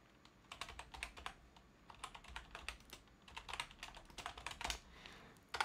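A file name is typed on a computer keyboard in quick, irregular bursts of light key clicks, close but quiet, with no voices.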